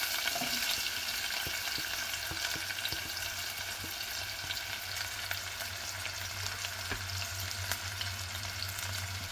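Oil heats and sizzles in a pan, ready for onion, with a constant crackling hiss and scattered small pops and splashes, close and steady with no talking.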